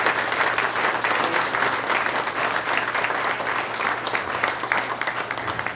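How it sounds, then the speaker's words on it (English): Applause from the audience at a domestic violence awareness month event: a sustained crowd of clapping hands, full and fairly close, slightly uneven in strength and tapering at the end, with no talk over it. "So I want to give you guys a round of applause."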